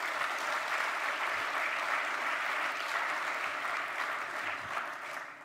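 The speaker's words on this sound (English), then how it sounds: "I would like to ask for a round of applause for all our panelists," A conference audience applauds the panelists at the close of a session, a full, continuous wash of clapping that holds steady and tapers slightly at the end.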